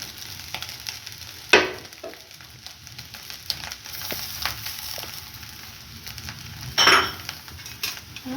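Prawn pittu sizzles steadily in a frying pan while a utensil scrapes and turns it, with two louder metallic clanks standing out against the continuous frying hiss; no one speaks.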